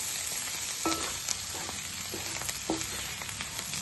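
Mutton liver pieces frying in a pan with masala, curry leaves and coriander, giving a steady close sizzle with a few soft stirring scrapes, no voices.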